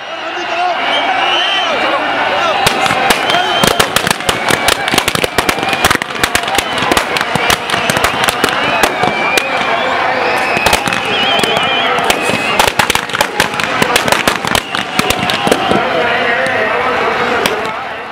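At a Dussehra celebration, firecrackers and fireworks crackle in rapid, loud bursts around a burning 51-foot Ravana effigy, and the dense popping continues over a steady crowd murmur.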